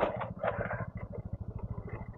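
A motorcycle rides along a short off-road stretch, its engine thumping in a steady rapid pulse that fades slightly as it continues, close and without any speech.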